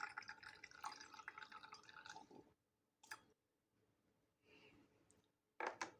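Water pours and trickles into a glass in short bursts of about 10 ml with gaps between them, followed by a few quiet drips, all faint and close by.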